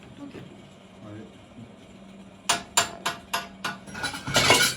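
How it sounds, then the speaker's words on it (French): A welding chipping hammer strikes metal in a workshop, about half a dozen sharp, evenly spaced hits that end in a denser clatter, following a quieter stretch. "Ça, c'est un marteau spécial. Un marteau à piquer."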